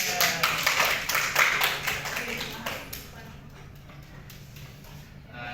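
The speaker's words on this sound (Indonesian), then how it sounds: "beri tepuk tangan untuk Askia" Classroom applause for a student named Askia during a language teaching lesson, a short burst of clapping from a small group that fades out after a few seconds, leaving quiet room noise.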